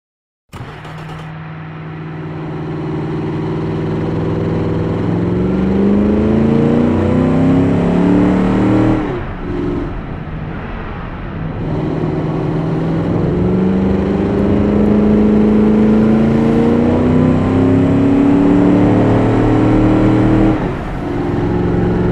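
A muscle car in the Automation driving game laps a test track, its engine revving steadily upward through gears with brief dips at shifts, loud and continuous throughout.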